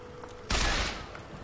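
A single loud, sharp gunshot blast in Bioshock Infinite bursts out suddenly and rings for a fraction of a second before fading into a low background hum.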